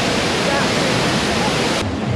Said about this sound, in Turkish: Ulan işte şelale burada, çok güçlü.